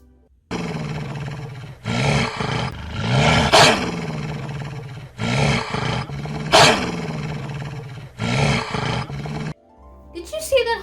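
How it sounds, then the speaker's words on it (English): A hungry wolf gives deep, rough growls and roaring snarls in several loud, drawn-out bursts separated by short gaps, close and prominent, with a brief different sound at the very end. "Did you see that hungry wolf?"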